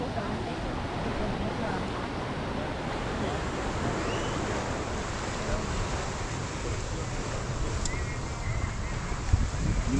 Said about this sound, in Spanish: Creo que la cuestión es porque el agua está picada.